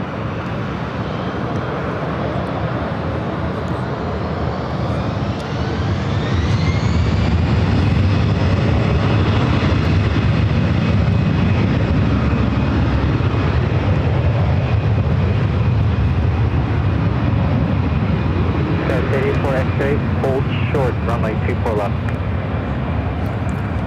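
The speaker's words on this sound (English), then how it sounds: "This arrival is Alaska SkyWest 3411 coming in from San Francisco on the E175 SkyWest 884 X-ray." A SkyWest Embraer E175 airliner arriving from San Francisco, its jet engine roar steady and loud throughout with a rising whine, while voices talk over it.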